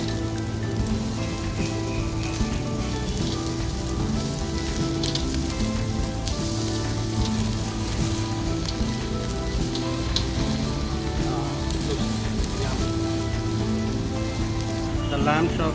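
Lamb chops sear in oil in a hot pan, giving a steady dense sizzle with crackle that runs the whole time under a layer of background music.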